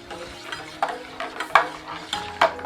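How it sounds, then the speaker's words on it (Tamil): Black gram payasam stirred steadily over a low flame, a spoon scraping the pot in several soft, evenly spaced strokes with faint bubbling beneath, close and fairly quiet. "நல்லா கைவிடாமல் கலந்து விட்டுட்டே இருக்கணும்"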